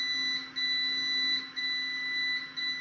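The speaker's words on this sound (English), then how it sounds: "The alarm's going off, obviously, because we've got the lid off, and it's a temperature warning and a humidity warning." An incubator's temperature and humidity warning alarm sounds with its lid off while chicks are inside, a steady high electronic tone broken into repeating beeps roughly once a second, near and alone.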